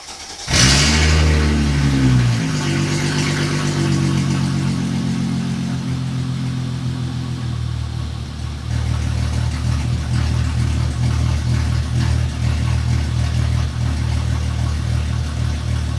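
A supercharged Mercedes SLK320 engine cranks and catches with a loud roar, then settles into a steady, throaty idle that continues unbroken.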